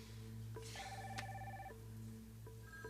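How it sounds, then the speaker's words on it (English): Several telephones ring repeatedly in an office setting from a 1989 soap opera scene, their electronic trilling bursts overlapping and sustained under a steady low hum, with no talking. "Sal, the phones are ringing off the hook."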